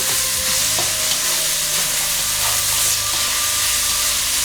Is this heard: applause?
no